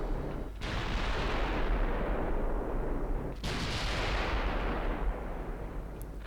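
14-inch battlecruiser guns firing in the naval game Ultimate Admiral, two heavy booming salvos with long rumbling decays and no talk.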